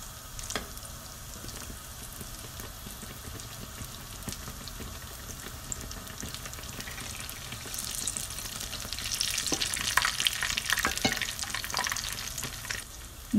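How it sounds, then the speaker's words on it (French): Moroccan beignet dough fries in very hot oil, a dense continuous sizzle and crackle close by that grows brighter and busier toward the end, with no talk. "Quand vous voulez poser le petit pain, on le pose tout doucement parce que l'huile il est trop chaud."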